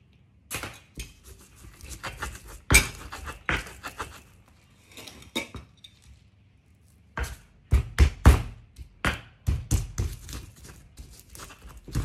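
Repeated dull knocks and scraping taps of stone on stone as spices with salt are ground in a stone mortar, irregular bursts with short pauses, close by, with no talking.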